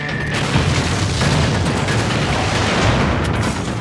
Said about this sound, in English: With team support weapons like barrel bombs, which will burn your enemies alive